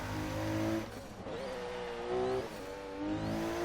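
Twin turbo Subaru SVX engine in Forza Horizon 3 revving, its pitch rising and falling in several sweeps over a steady engine drone, fairly faint and without talk.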